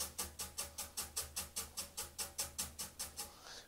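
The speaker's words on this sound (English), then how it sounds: "you can play a brush sound like this." Quiet, rapid swishing and tapping of brushes on a cajon, a steady even pulse of soft papery strokes played alone.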